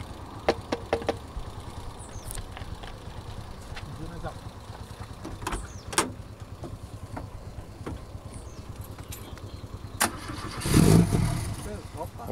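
A Fiat 147 engine is cranked, with scattered clicks and knocks before a brief sputtering start burst near the end, while people talk throughout.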